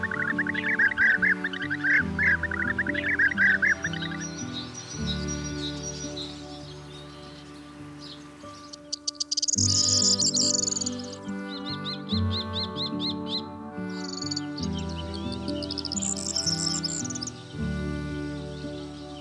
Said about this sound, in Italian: Sopra di loro gli uccelli si dondolano cantando allegri perché sono in compagnia.